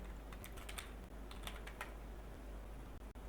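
Quiet, close keystrokes from a computer keyboard as a search is typed into Google, a short irregular run of clicks over faint steady hum, with no voices.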